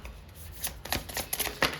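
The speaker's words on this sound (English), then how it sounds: "I automatically started shuffling this deck" A deck of tarot cards is shuffled by hand, giving quick papery riffles and soft bursts of flicking cards in an uneven rhythm, close and moderately quiet with no talking.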